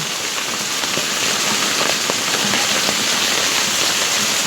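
Heavy, steady rain pours down outdoors, a dense continuous wash of hiss with scattered drops and splashes ticking on nearby surfaces throughout.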